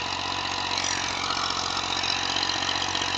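An old Massey 240 tractor pulling a 54-blade rotavator runs with a steady, close mechanical engine drone and a continuous low chugging rumble, with no voices.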